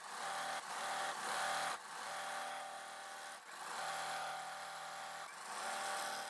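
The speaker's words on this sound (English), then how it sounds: "What I'm going to do now is just go ahead and sew." A sewing machine stitches quilt block pieces, running as a steady, quiet mechanical whir. It pauses briefly a few times and then carries on, with no talking.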